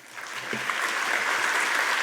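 Applause at the 2021 South Australia Australian of the Year Awards ceremony, a soft, even patter of many hands that swells slightly and holds steady, heard from some distance across the hall.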